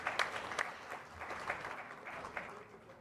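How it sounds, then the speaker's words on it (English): Audience at a business summit plenary session applauding, a quiet room of clapping with a few sharper individual claps standing out, tapering off at the end. "Can we have a louder round of applause,"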